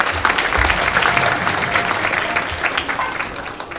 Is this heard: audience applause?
yes